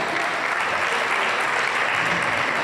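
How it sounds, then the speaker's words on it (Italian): A crowd at a beauty pageant in Scampia applauds steadily, a bright continuous patter of many hands clapping at even loudness with no pause. "facciamo un applauso"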